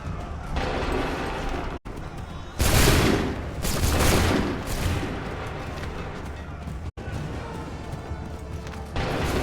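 Soldiers fire a musket volley in Assassin's Creed III: a long, loud crackling burst of many overlapping shots with booming echoes, standing out from a steady din of battle.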